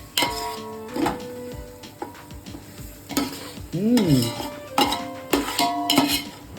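Biryani mixture being stirred in a pot for Tamil Nadu style mutton biryani with jeera samba rice, a spoon scraping and clinking against the metal with a faint sizzle underneath, in steady strokes and close up.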